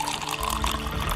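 Water poured into a glass of liquor as a drink is mixed at a gathering, a steady trickle and splash running continuously at moderate level with a faint background murmur.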